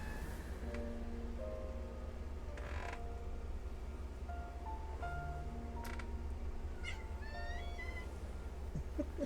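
A cat meows over a steady low background hum, with several drawn-out creaky calls scattered across the clip and a faint higher chirp near the end, with no talking.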